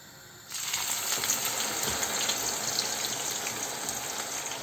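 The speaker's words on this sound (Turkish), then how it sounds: "Kabağımızı kızartıyorum." Steady sizzling of zucchini frying in hot oil, a loud continuous crackle that starts abruptly after a brief quiet moment.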